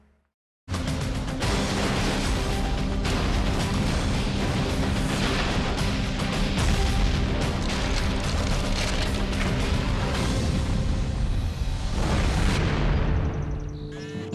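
A gunpowder depot explodes in Riobamba, Ecuador, with a loud, sustained roar of blasts and rumbling debris that fills nearly the whole stretch after a brief silence, then tapers off near the end.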